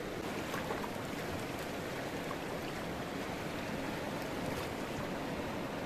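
The Neelam river rushes close by in Keran Valley near the India–Pakistan border, a steady, loud broadband roar of flowing water with no voices over it.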